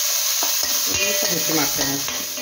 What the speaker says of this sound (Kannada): ಇದೇ ಕಡಾಯಿಗೆ ನಾನು ಸ್ವಲ್ಪ ತೊಳ್ಕೊಂಡ ಕಿಶ್ಮಿಶ್ ಹಾಕ್ತಾ